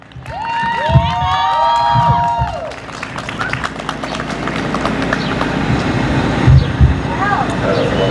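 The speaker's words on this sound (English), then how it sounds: "Please give her a round of applause." At an outdoor GSA Day Pride flag raising in Carteret, New Jersey, an audience applauds and cheers in a sustained wash of clapping. A few whistle-like tones sound near the start, and the crowd noise continues at a moderate distance.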